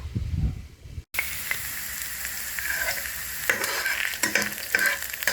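Garlic and onion sautéing in a pan for a ginisa dish of winged beans, hyacinth beans and mustard greens, a steady close sizzle with stirring scrapes after a brief silent gap near the start.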